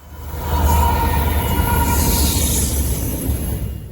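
A Norfolk Southern freight train rolls past close by, a loud steady rumble of wheels and cars with a faint squeal above it.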